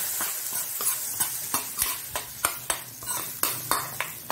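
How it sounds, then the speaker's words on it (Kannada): Mangalore mango curry bubbling in a pot while being stirred, with regular scraping and clinking strokes of a spoon against the metal about every third of a second over a soft sizzling simmer. "ಇಲ್ಲಿ ಒಳ್ಳೆ ಕುದಿಸ ಬಂತ ಉಂಟು ನೋಡಿ, ಕುದಿ ಬಂದಿದೆ"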